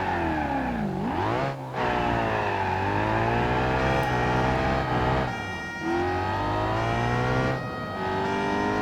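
Civetta Bolido Italian police car driving fast in the BeamNG.Drive game, a high revving engine that climbs and drops through gear changes, loud, close and continuous, with brief dips between shifts.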